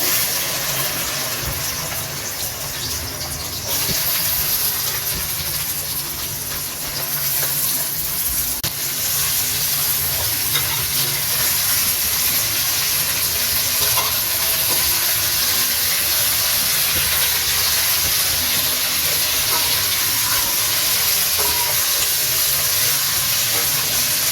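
Okra frying in hot oil in a kadhai gives a steady, loud hiss and sizzle that runs unbroken for the whole stretch, with no voices over it.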